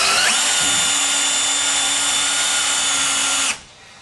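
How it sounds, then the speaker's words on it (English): A power drill with a fat bit drives screws into a door, whirring steadily and loud for about three and a half seconds before cutting off abruptly. "What's nice about this bit and these screws is he's got a nice fat, so they don't skip and they don't strip."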